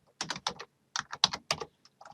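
Typing on a computer keyboard comes in two quick bursts of close, crisp key clicks with a short pause between, clear and without talk.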